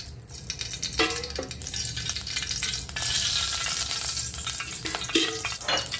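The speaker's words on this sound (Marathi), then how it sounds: "आता आपण याच्यामध्ये दोन चमचे तेल टाकूया" Steady frying sizzle of two spoons of oil heating in a hot kadai, with a few brief scraping clinks of a utensil, close and continuous throughout.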